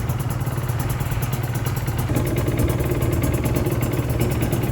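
A Suzuki RG Gamma two-stroke sport motorcycle, kick-started, idles close by with a rough, rapid putter that steadies and grows slightly louder partway through; no voices.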